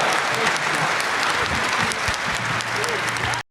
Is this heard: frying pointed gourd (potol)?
no